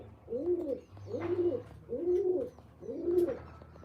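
Pigeons coo close by, four evenly spaced, soft rolling calls over a quiet background.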